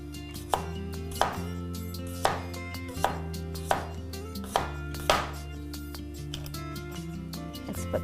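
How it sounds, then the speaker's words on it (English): A knife slices cucumber thinly on a cutting board for a salad, giving a series of crisp, evenly spaced chops, about eight clear knocks, close and fairly quiet over a soft background hum. "we will also slice some cucumber"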